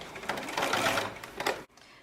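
A sewing machine runs in a steady fast whir while stitching a rectangle of fabric along its edges, then cuts off abruptly near the end.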